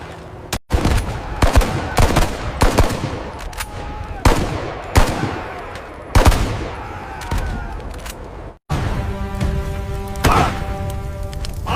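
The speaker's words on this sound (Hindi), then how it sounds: "जल्दी से अपनी बंदूक में गोली भर लो और फायरिंग शुरू करो" Rapid bursts of gunfire from a movie battle scene, loud and close, with sharp repeated shots and volleys clustered in quick succession, broken by brief silences and ending under a sustained droning tone.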